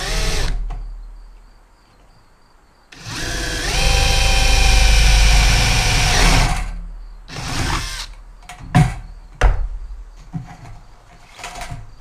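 A power drill bores a hole through the sheet-metal housing of a garage fluorescent light fixture, with a loud whining burst of several seconds, then short spurts and clunks as the bit breaks through.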